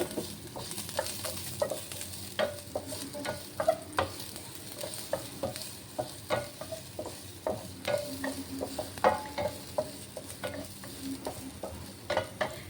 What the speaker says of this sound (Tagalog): Ginisa-gisa ko nga muna ito hanggang sa mag-brown.